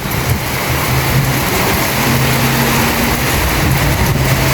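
Steady, dense wash of rain and gusting wind, a constant broadband roar with no voices, holding evenly throughout.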